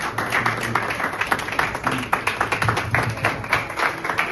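Church congregation clapping during a crusade service, a dense steady patter of many hands in a rhythmic run, with some voices mixed in.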